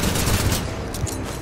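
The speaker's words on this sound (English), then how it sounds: "I don't know why I shot with a P-2020." P-2020 pistol fire in the video game Titanfall 2, rapid loud shots that blur into a dense burst of gunfire amid game battle noise.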